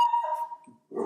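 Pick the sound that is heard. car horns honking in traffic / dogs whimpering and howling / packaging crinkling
dogs whimpering and howling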